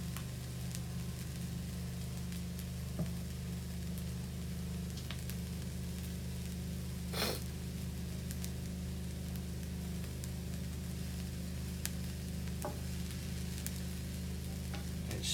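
Egg fried rice with pak choi frying in a hot pan, a continuous close sizzle with a constant hiss, broken by a few sharp crackles and one louder spatter partway through, no talking.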